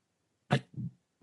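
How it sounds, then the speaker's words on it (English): A sharp throat clearing followed by a softer, lower rasp, then a tiny click; close and isolated in silence. "That's me clearing my throat."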